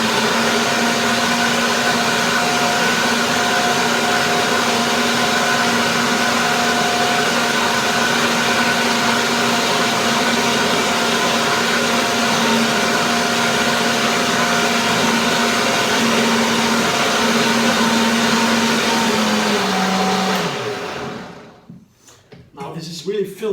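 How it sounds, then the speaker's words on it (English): A blender churns a thick coconut and mango mixture, a loud, close, steady motor whine that holds for about twenty seconds before winding down and cutting off, with a few knocks afterward. "Even the best blender has the limits."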